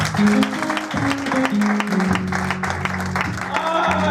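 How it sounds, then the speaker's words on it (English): Church congregation clapping for Jesus during a Sunday prophecy service, steady applause throughout under harmonic music tones and some voices. "Clap for Jesus."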